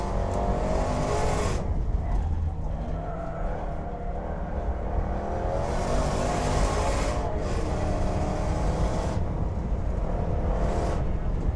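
A Land Rover Bowler EXR S racing a Caterham Seven Supersport around a handling circuit, engine roaring steadily close by with rising and falling revs through gear changes, tyre noise and wind rush.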